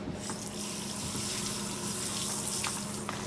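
Running water from a hose or tap washing over a freshly carved block of ice for a large ice sculpture, a steady close hiss and splash that stays even and unbroken throughout.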